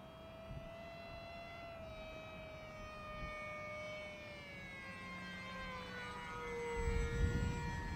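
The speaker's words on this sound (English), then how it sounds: "let's try landing this plane" An Esky Eagle 1100mm RC trainer airplane comes in to land in a crosswind, its electric motor a steady high-pitched whine whose pitch slowly drops as it passes, with wind buffeting the microphone near the end.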